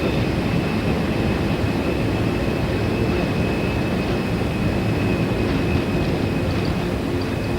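KLM airliner taking off in a Tenerife airport reconstruction, a dense steady jet engine roar with a thin high whine, loud and unbroken throughout.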